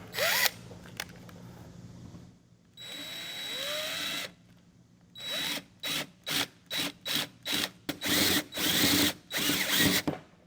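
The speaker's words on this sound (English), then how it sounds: "we're just going to take our time and drill these holes out to the 17/32" A power drill whines through sheet metal, drilling 17/32-inch holes, first in a long run, then in a series of short, rhythmic pulsed bursts with brief pauses between.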